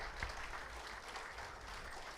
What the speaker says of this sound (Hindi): कृपया करके तालियों की गड़गड़ाहट शिशिर उनियाल सर के लिए और हमारी रैबार मूवी के लिए।